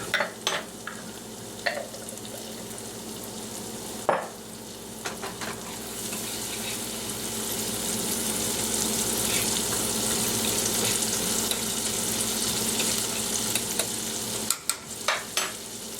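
Garlic and softened onions frying in a pan, a steady sizzle with occasional scraping stirs and clinks, close and moderately quiet.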